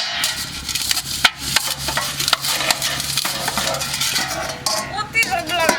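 Metal utensils and dishes are stirred, scraped and clinked in a busy kitchen, with a continuous jumble of close, bright metallic contacts and occasional sharper clanks.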